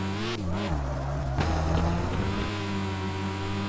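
A car drifting in a video game, its engine holding a steady droning pitch with a long continuous tire squeal, loud and close, with no talking.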